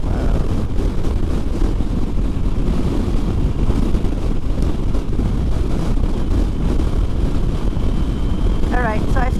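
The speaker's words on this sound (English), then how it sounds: "it is really windy through here" Strong wind gusts buffet a rider on a motorcycle trip through windy Utah and Nevada country, a loud, constant roar of wind noise with engine rumble beneath.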